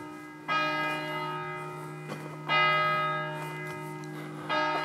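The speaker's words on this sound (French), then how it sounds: "si la cloche sonne, à chaque fois, c'est qu'elle sonne chaque heure" A church bell tolls the hour, three resonant strikes about two seconds apart, each ringing out and slowly decaying, moderately distant with no voices.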